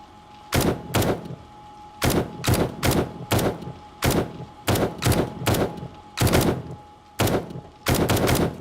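Gunfire from expensive ammunition in the survival game 7 Days to Die: sharp, loud shots in short bursts of two to four, repeated at a quick uneven rhythm with brief gaps between volleys.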